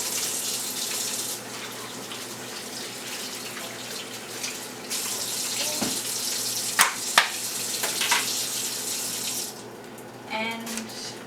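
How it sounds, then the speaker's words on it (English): Tap water runs steadily into a sink while hands are washed, a continuous close hiss with a few brief clunks and splashes near the end as the flow changes. "wash your hands"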